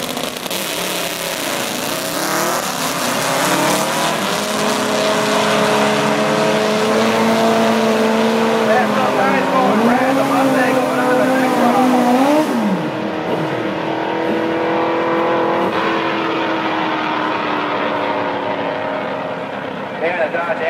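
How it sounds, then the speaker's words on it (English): Drag race cars launching at a bracket-racing strip, including a supercharged Fox Body Mustang, loud engines roaring and revving up through gear changes for about twenty seconds, with a public-address announcer talking over the noise. "Supercharged Fox Body Mustang, the custom classic side. This is going to be a good drag race, folks."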